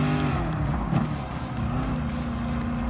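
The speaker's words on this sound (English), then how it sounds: "there's the Ford 58 Italia racing in" A Ford 58 Italia race car in Gran Turismo Sport runs at the Le Mans circuit, its engine droning steadily and loudly throughout with a brief surge near the one-second mark, tyres faintly squealing under the continuous roar.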